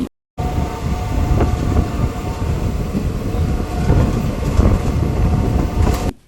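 DEMU passenger train pulling away after a one-minute halt at Shadnagar station, a loud steady rumble with rhythmic wheel clatter heard from on board, starting abruptly after a moment of silence.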